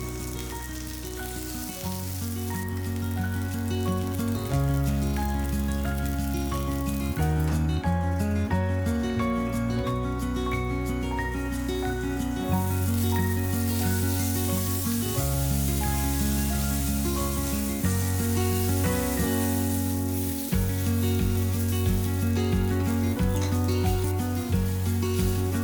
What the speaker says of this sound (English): In the pan with mustard oil, I added the tomatoes, mango halves, garlic and 1 green chili.